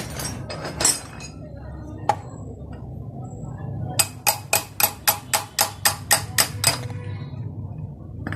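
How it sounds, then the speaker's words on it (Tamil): Cutting pliers tap a timing chain link out on a Splendor motorcycle, giving sharp metallic clinks: a few scattered taps, then a quick run of about ten evenly spaced strikes over a quiet background. "கட்டிங் பிளேயர் பிடிச்சி தட்டினோம்னா அது வந்துடும்."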